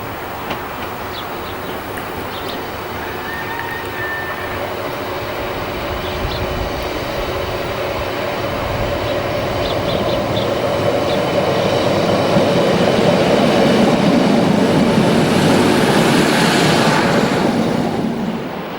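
A British Rail Class 150 diesel multiple unit pulls away from Gobowen station, its diesel engine growling and building in volume over many seconds with rail rumble, loud and close, no voices.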